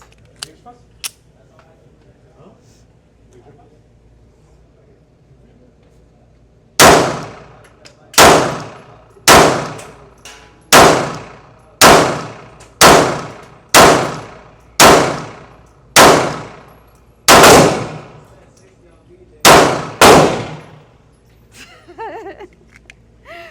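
A Smith & Wesson Bodyguard 2.0 Comp .380 ACP pistol firing about a dozen shots at a steady pace, each followed by a ringing clang of a steel target, loud and close after a quiet lead-in.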